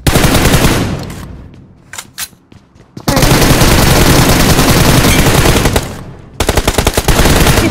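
Dense automatic gunfire in the battle royale game BGMI, long sustained bursts with a lull of scattered single shots midway, loud and close throughout.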